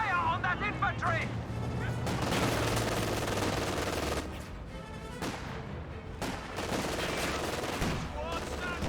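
An anti-tank gun fires repeatedly during a Company of Heroes 2 battle, heavy booming shots mixed with crackling small-arms fire and explosions in a dense, continuous wartime soundscape, with a commentator talking over it.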